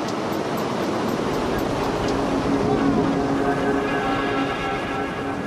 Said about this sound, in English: This wind tunnel's top speed.